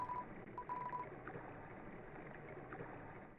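A short run of electronic phone dialing tones in Undertale beeps quickly in the first second, then fades into a low, steady background hum.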